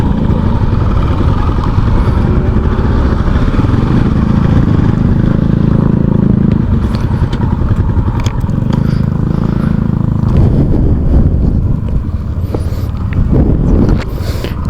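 Rusi Macho TC 150 motorcycle engine idling and running loud and close while the rider looks for a parking spot on an outing in Paete, a continuous rumble with a slight change in tone partway through.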